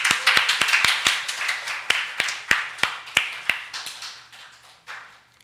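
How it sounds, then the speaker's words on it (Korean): A small seminar audience gives a sparse round of applause, distinct individual claps ringing out close and sharp at first, then thinning and fading away over several seconds. "이제는 박수 한번 치시죠"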